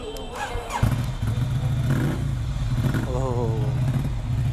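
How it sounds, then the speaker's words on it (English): A Ducati Monster 797 with a MotoGP exhaust sets off on a test ride. Its deep, steady engine drone is loud and close, with revs rising and falling, and a voice speaks over it. "and it is the MotoGP exhaust which Rossi uses in MotoGP"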